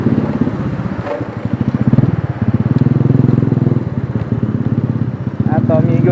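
A motorcycle engine runs close by with a steady, rough, pulsing drone, while several people talk loudly over it throughout.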